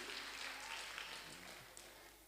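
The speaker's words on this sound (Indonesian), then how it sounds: "Ya, tepuk tangan dulu buat Ibu Guru." Children at a Sunday school gathering applaud the teacher, a faint, dense patter of many hands clapping that holds steady and then thins slightly toward the end, with no talk over it.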